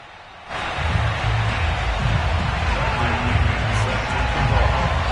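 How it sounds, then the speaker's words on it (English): A sold-out stadium crowd roars in an EA Sports NFL video game during a Bills versus Jets matchup. The cheering is a steady, dense wash of noise that swells after a quiet start, with a commentator talking over it throughout. "a moment ago they entered to the delight of this sold-out crowd"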